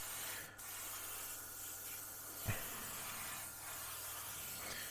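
Airbrush dusting paint onto a 1/35 scale Spitfire Mk Vb model, a faint, steady hiss with brief bursts and a small knock midway, quiet and close.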